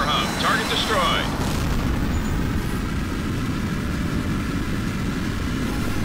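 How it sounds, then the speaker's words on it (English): A destroyed radar hub explodes in the jet combat game Tom Clancy's H.A.W.X., a loud, sustained rumbling blast with a continuous roar beneath faint radio-style chatter. "direct hit on the radar hub. Target destroyed."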